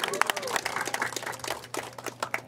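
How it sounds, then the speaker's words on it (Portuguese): Scattered applause from a crowd at a municipal event in Carnaíba, Brazil, a patter of claps of moderate loudness with a low hum underneath and some voices. "Aplausos para ele."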